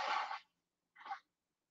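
A person sneezes twice in quick succession, a fuller burst followed by a shorter, softer one after a brief silence. Both are close and fairly quiet, with no other sound around them.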